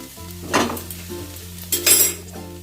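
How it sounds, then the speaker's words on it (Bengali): Flattened rice is stirred into cooked potato, carrot and cauliflower in a pan, giving two short scraping bursts of spoon against metal over a soft, low hum, with no one talking. "চিড়েটাকে দিয়ে দিলাম সবজির সাথে আমি ভালো করে মিশিয়ে নেব"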